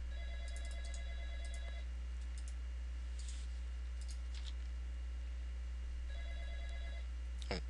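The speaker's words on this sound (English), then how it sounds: "Phone's ringing." A telephone rings in two bursts of repeated electronic trills, one at the start and one near the end, under a steady background hum with faint clicks between rings.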